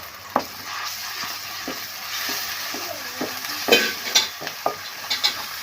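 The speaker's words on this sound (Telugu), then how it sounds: "ఇది మంచి కలర్ వచ్చేంత వరకు అయితే ఫ్రై చేసుకోండి" Ingredients for egg biryani fry in a pan with a constant hissing sizzle, broken by repeated scraping and clinking stirring strokes that grow busier toward the end, close by and without speech.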